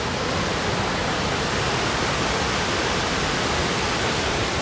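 Crystal Creek waterfall in Shasta-Trinity National Forest, California, pours in a dense, steady roar of rushing water, heard loud and close with no break or other sounds.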